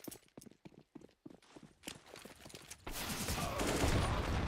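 A grenade stack going off in a Counter-Strike match: rapid popping bursts and clattering impacts, then a dense, loud roar of overlapping blasts and smoke filling the second half.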